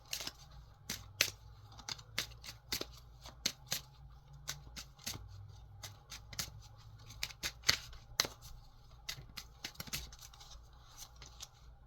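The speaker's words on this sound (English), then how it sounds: "Let's draw some light oracle cards." Oracle cards are drawn and handled from a deck, making quick, crisp snaps and shuffling clicks in an irregular rhythm, close and fairly quiet, with no talking.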